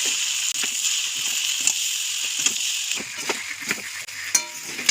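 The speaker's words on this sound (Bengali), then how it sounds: "এবারে খুঁটির সাহায্যে এটা মিশিয়ে নেবো সবজির সাথে" A spatula tosses veg chowmein noodles with winter vegetables in a hot pan: a steady close sizzle broken by repeated scraping clicks and knocks of the spatula, with no voices.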